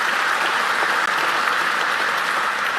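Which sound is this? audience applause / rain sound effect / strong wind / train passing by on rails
audience applause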